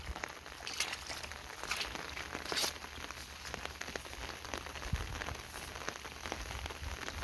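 Heavy rain falls on flooded rice paddies in a steady, dense patter of drops, close and even throughout with small spattering bursts and no voices.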